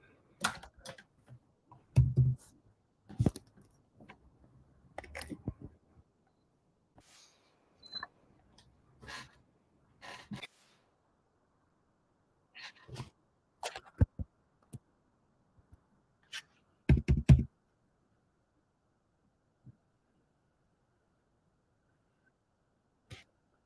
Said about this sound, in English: I didn't know it was so loud when I was hitting the keyboard.